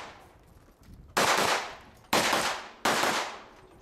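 Three sharp rifle gunshots at a shooting match, each a loud crack with a decaying echo, spaced about a second apart.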